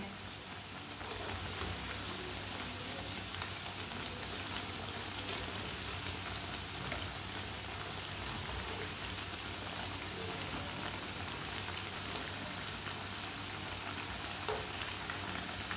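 Pakoras frying in oil in a pan, Punjabi style, give off a steady, dense crackling sizzle like light rain, close and even throughout with no talking.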